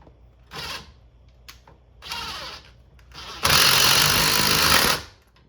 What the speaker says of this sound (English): Now we can tighten this one back up.